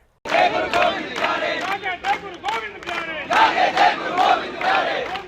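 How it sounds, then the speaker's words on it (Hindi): Large crowd of protesters chanting and shouting outside Delhi Police headquarters, loud rhythmic group cries rising and falling in waves, close and continuous after a short silent start. "दिल्ली पुलिस हेडक्वार्टर पर सभी सनातनियों की भीड़ आप देख सकते हैं"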